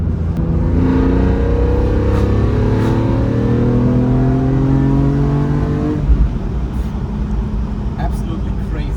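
A naturally aspirated six-cylinder BMW E46 M3 CSL engine with no turbocharger revs hard, its pitch climbing steadily for several seconds before dropping off as the throttle lifts, loud and close.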